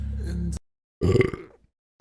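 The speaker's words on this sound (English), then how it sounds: "I need a burp." A man lets out two burps, a short one followed after a pause by a longer, louder, gurgling one that trails off, close to the microphone.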